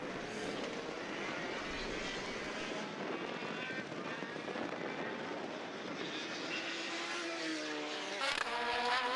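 Formula BOSS single-seaters, including a Lola, race at Mondello Park in Ireland in 2022, their engines a continuous loud high-pitched roar with rising and falling revs as cars pass, while a commentator talks throughout.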